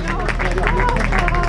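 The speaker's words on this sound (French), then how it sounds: "Et on continue à vous applaudir et à vous féliciter." Spectators clap at the podium of a cycling time-trial in Alençon-Medavy, a dense patter of applause under a loud voice speaking over a public address.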